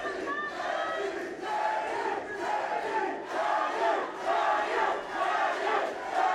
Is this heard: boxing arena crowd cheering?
yes